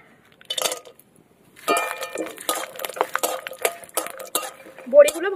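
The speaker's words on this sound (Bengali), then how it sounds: "তাই সবার আগে বড়িটা ভেজে নেব।" Bori lentil dumplings frying in mustard oil in a kadai, with a metal spatula stirring and clinking against the pan in short bursts over a soft sizzle, close by and with no talking.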